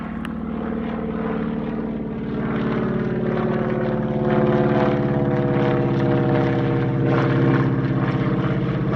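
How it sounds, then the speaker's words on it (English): A modified Cri-Cri, a tiny electric twin-engined aircraft, flies at the 2022 Meaux airshow in France with a steady, loud propeller drone, a layered hum that grows slightly stronger midway and holds without pause. "a modified Cri-Cri, which is the smallest twin-engined aircraft in the world"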